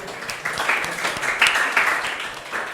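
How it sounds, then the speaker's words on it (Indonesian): Brief classroom applause for a student during a university operating-systems lecture, a short burst of scattered hand claps from a small group, moderately near, with no talking. "tepuk tangan dulu untuk temanmu yang ini"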